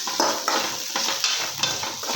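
A spoon stirs turmeric through food frying in a pan, with steady sizzling and repeated scraping strokes at an even rhythm, close and moderately loud, no voices.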